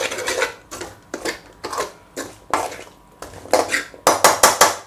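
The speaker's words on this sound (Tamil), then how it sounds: "இப்போ நல்லா மிக்ஸ் பண்ணிக்கலாம், நல்லா வதக்கிக்கலாம்." Potatoes and drumsticks are sautéed with masala in a pan while cooking mutton curry. A utensil rhythmically scrapes and clinks against the pan in repeated strokes that quicken toward the end, with no talking.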